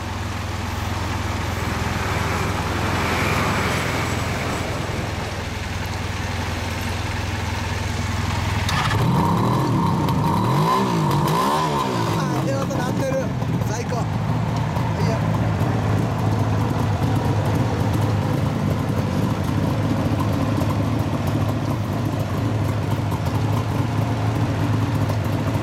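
A 1974 Suzuki GT750 motorcycle engine idles steadily, then revs up sharply a few times with rising and falling pitch before settling into a loud, continuous running note.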